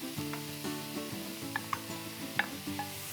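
Onions, garlic and potatoes sizzling in a pan for a Greek dish, a steady close frying hiss broken by a few scraping stirs and light clinks of a utensil against the pan.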